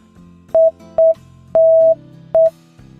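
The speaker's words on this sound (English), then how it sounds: "F is dot dot dash dot. So it would be dot dot dash dot." Morse code letter F sounded as clear beeping tones, two short beeps, one long beep and a final short beep in a dot-dot-dash-dot rhythm, loud and close over a faint background of other tones.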